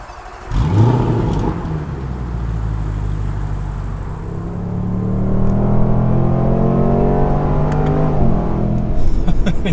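A Range Rover Sport supercharged V8 rumbles up as it pulls away, then accelerates with a deep, rising growl heard from inside the cabin.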